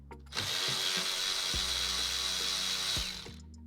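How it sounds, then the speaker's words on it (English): Ratchet or power tool removing a bolt from the engine cover of a 2018 Honda Accord 1.5L turbo, a steady close whirring buzz lasting about three seconds before stopping. "I'm just gonna pull these two bolts out for quick for that cover"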